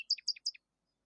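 A small bird sings three quick, bright chirping phrases in a row, close and clear, then falls silent.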